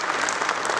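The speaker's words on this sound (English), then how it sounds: "I just want that you should give yourself one round of applause because you have been wonderful" A short, dense burst of applause from a conference audience at an ICASA 2023 event, loud and steady before it cuts off abruptly.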